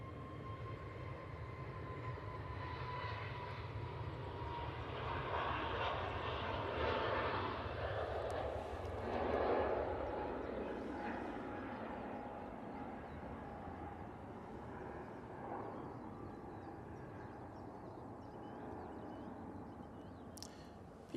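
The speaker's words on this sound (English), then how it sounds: "A321 going out there. And that was off to Palma de Mallorca." An Airbus A321 airliner departs Manchester Airport for Palma de Mallorca, its jet engines a broad sustained roar swelling to a peak mid-clip and then slowly fading into the distance.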